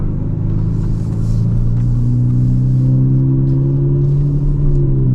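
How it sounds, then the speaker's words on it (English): A deep, throaty V12 engine rumble from an Aston Martin DB11 with exhaust valves open in sport mode holds steady and loud throughout, rising slightly in pitch as the car pulls along, with no voices. "it opens up the valves on the exhaust and it sounds a little bit louder"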